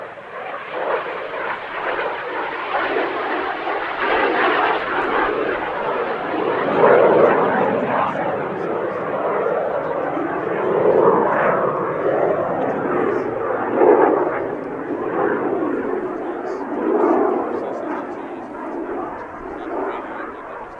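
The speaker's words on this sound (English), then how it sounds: "This particular aircraft is one of the lowest hour jet provosts in existence" A BAC Jet Provost jet trainer at the Midlands Air Festival airshow passes with a sustained, rising and falling jet roar, moderately loud and carrying, with no clear talk over it.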